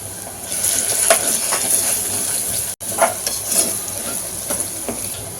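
Goat intestine with ginger-garlic paste and turmeric sizzles steadily in a hot pan while a spoon stirs it, giving close, repeated scraping strokes over a constant frying crackle.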